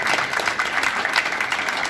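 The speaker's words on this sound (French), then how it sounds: "Alors que ça mérite des applaudissements." Brief, dense burst of audience applause at a book signing and launch event, loud and continuous with no gaps and no voices over it.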